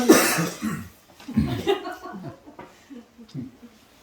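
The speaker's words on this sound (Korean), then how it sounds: "지금 벌써 다 이렇게 기침하는 사람들 나오잖아요" Scattered coughs and throat clearing in a hair salon during a Brazilian hair treatment mix with soft chuckles and murmuring voices, fairly close but not loud.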